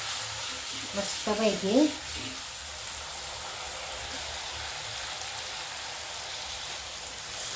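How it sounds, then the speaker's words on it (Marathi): Ground coconut masala paste sizzling and frying in hot oil with golden garlic for a fish curry, a steady crackling hiss throughout, with someone briefly speaking over it near the start. "वाटण पण परतून घेऊया चांगलं"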